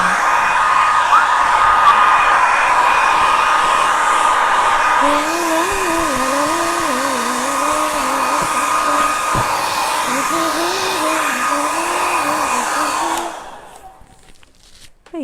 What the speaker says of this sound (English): I'm just going to whiz it off with a hairdryer first, just to dry it